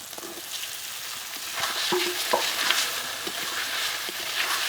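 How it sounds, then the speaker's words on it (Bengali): Mushrooms and potatoes are stir-fried in a spice masala, giving a soft, steady sizzle with scraping spatula strokes against the pan, fairly quiet and close, with no talking. "মশলার সঙ্গে মাশরুম আলুটাকে এখন ভালো করে কষিয়ে নেব"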